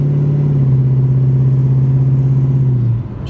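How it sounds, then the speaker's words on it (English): A 1966 Plymouth Barracuda with a V-8 and automatic transmission idling, its exhaust giving a loud, close, steady low rumble with an even throb that drops off briefly near the end. "You can hear that exhaust."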